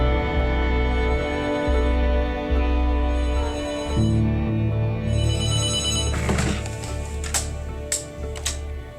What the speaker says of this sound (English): Hey Bugs, were you just phoning us?